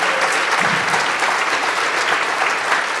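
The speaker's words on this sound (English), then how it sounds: "How about a round of applause for all the videos you saw today?" A crowd at the Coquitlam sports heroes celebration gives a round of applause, a dense, continuous wash of many hands clapping, loud and even throughout with no speech.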